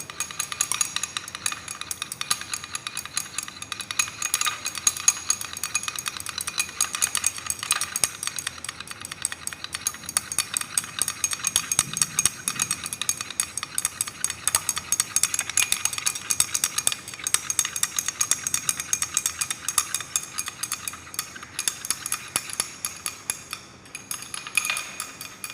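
Continuous stirring as a resorcinol and ethyl acetate solution is slowly added to concentrated sulfuric acid in a lab, a steady run of light scraping and clinking glass-rod strokes in a quick, even rhythm, close and fairly quiet.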